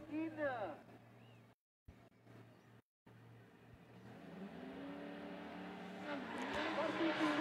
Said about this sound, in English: warming up the tire